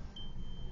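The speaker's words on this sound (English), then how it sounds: "don't worry about that beeping, it's just my seatbelt." A car's seatbelt warning gives a single short, high beep, faint over steady road and engine rumble while driving.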